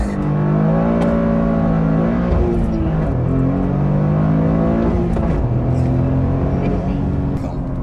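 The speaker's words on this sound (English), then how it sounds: "Completely burning up the clutch with that one." A Toyota GR Corolla launches hard from a standstill for a 0-60 run, with a loud, sustained engine roar that rises and dips in pitch through the gear changes, heard close up from inside the car.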